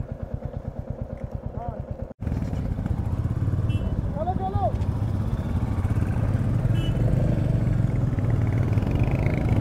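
Motorcycles start up and settle into a loud, steady engine drone close by, after a brief cut, with people talking over the running engines.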